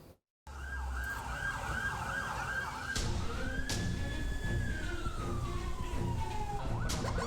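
Ambulance sirens wail at a hospital in Jember, East Java, as a convoy of ambulances arrives after a tourist bus crash, one rising-and-falling siren sweeping near and loud with a few sharp knocks in the background.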